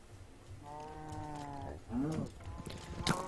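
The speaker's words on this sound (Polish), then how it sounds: "No, krowki." Cows mooing in the Minecraft Tekkit game: a long, steady, tonal low moo, then a shorter wavering call and a brief sharp noise at the end, fairly close and clear with no talk over them.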